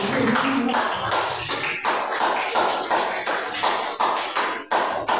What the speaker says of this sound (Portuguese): Vamos aplaudir Jesus, não?